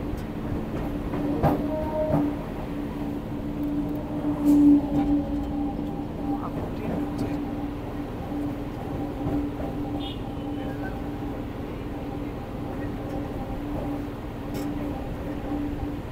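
A Naihati to Bandel local train crossing the Sampriti Setu bridge, giving a steady rolling rumble with rhythmic clickety-clack of wheels on rail joints, heard from on board with faint voices now and then.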